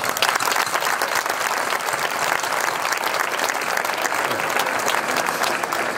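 Audience applause fills a folklore night of regional choir and dance groups in Villarrubia: dense, steady clapping from a large crowd, loud and unbroken throughout with no pause.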